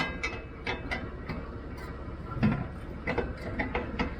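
Wrenches working a bolt loose on a spear, heard as a close series of irregular metallic ticks, clicks and ratcheting taps with small pauses between them, no speech.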